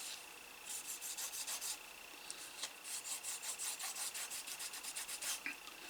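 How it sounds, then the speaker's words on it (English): Rouge is rubbed onto a leather strop for sharpening an edge beveller in steady back-and-forth strokes, a soft, close raspy scrubbing with brief pauses between passes, heard alone. "I'm just going to rub some rouge on there"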